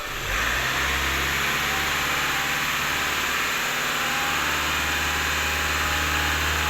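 A motorcycle engine with a fault that makes its exhaust smoke revs up and holds a loud, steady roar close by, with a deep rumble underneath and no talking.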